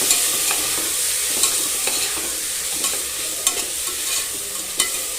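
Horse gram being sautéed in a pan, with steady soft sizzling and repeated scraping stirs of a spatula, close up and continuous with no voices.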